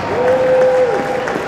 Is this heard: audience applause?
yes